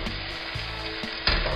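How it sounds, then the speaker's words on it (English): Steady oily sizzling of green beans frying in coconut oil in a pan, continuous and close, with a brief louder crackle near the end. "So just get them in there, then pop the lid on and we're going to fry and steam them"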